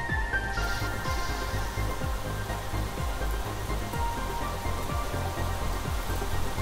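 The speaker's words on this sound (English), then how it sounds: "Oh, it's raining." Steady rain pours down across an alien planet in the survival game The Planet Crafter, a dense, even hiss of drops with no talk, continuous and moderately loud throughout.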